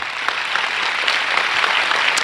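A church congregation applauds harder, with thick, sustained clapping and a few sharper claps standing out from the crowd.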